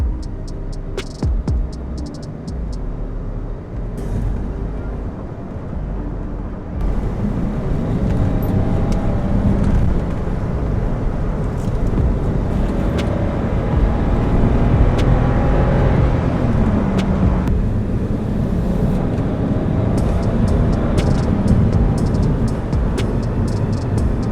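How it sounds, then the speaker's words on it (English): A BMW 535i E60 engine running on the road after intake valve walnut blasting and chemical carbon cleaning, held in manual mode at higher revs, with a steady low drone that swells and rises in intensity midway. "So the car feels like it's running really well and smooth."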